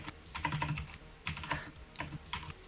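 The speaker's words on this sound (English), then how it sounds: "How loud is your keyboard?" Someone types on an old Razer BlackWidow mechanical keyboard with blue switches, sending quick clusters of clicky keystrokes in short bursts with brief pauses, fairly faint and close, with no talk.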